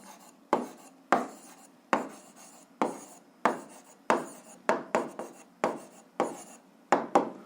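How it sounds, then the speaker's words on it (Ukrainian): Pen writing out an answer to a school physics problem on paper: about a dozen short scratchy strokes in an uneven rhythm, close and fairly quiet, with no talking. "записуємо відповідь, пишемо відповідь"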